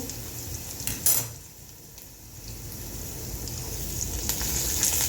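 Green chilies get stirred into steamed potatoes in a pan for sabudana khichadi, a low frying sizzle with a few sharp scraping clatters near the start and end, close and unaccompanied by talk.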